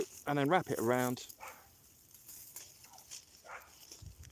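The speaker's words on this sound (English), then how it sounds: "sorry about the barking dog." A dog barks twice in quick succession, loud and close, outdoors beside a garden where chicken wire tree guards are being fitted; someone talks afterward.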